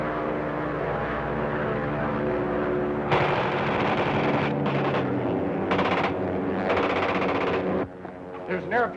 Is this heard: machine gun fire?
yes